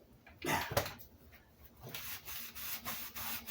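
A cloth rubs stain off a Les Paul guitar body in a few short, soft scrubbing strokes, close by and quiet.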